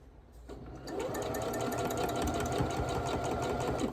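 A home sewing machine runs steadily, its needle striking over and over in one spot during quilt piecing, producing a fast, even mechanical chatter heard close and clear, with no talk.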